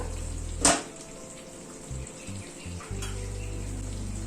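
Chicken sautéing (kosha) in a covered pan as its released water cooks down: one sharp metallic clatter early on, then a faint, steady sizzle with low bubbling underneath, close by and without talk.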